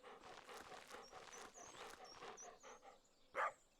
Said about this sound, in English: My dog is panting.